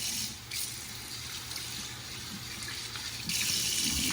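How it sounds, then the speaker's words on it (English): Running water from a tap pours over a cup of rice in a small strainer, a steady close splashing wash that swells louder near the end. "A cup of rice, pour it in a little strainer, and rinse it."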